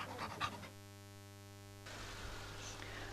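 A border service drug-detection dog pants steadily in quick, close breaths, with an electrical hum and static in the background.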